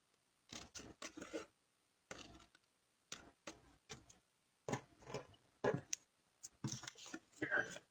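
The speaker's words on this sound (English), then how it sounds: "This is easy enough to just do with a pair of scissors." Scissors snip through paper for a pyramid gift bag in a run of quick, close, irregular cuts with short pauses between bursts.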